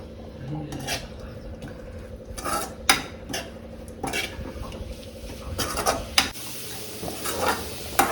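A spoon scrapes and clinks against a pan as a mixture is stirred and roasted in ghee over high flame, with repeated metallic knocks at an uneven rhythm over a soft background sizzle.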